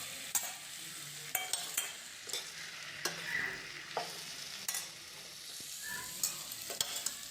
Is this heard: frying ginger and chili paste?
yes